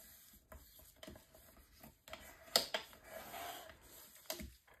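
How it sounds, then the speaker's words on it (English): Folded paper is burnished onto adhesive for a mini album cover, giving faint rubbing and scraping strokes with a few sharper crinkles and taps, close up and quiet. "start burnishing just like I did previously, and then pressing this right over the top"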